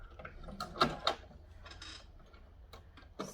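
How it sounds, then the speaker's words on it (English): A sewing machine malfunctions with a few irregular mechanical clicks, ticks and clunks, quiet and close, scattered across a few seconds with no voices. "sewing machine malfunction there for some reason"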